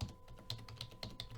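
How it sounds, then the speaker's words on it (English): Keys clack on a computer keyboard as a git command is entered, a short run of crisp, close taps in an uneven rhythm, quiet and with no talking. "We can even put it simpler by typing git log"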